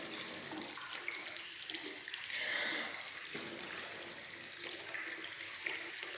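Water jet forced through a clogged air conditioner drain pipe, a steady low rushing and gurgling flow with a brief louder surge midway, fairly quiet and close.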